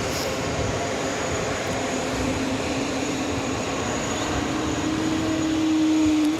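JetBlue Airbus A320 in New York Jets livery at JFK airport, a steady broadband jet roar with a rising engine whine that builds toward the end, fairly near, with no talk.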